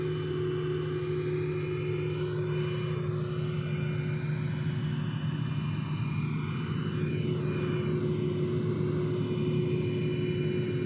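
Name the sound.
A-10 jet engines taxiing in SimplePlanes 2 video game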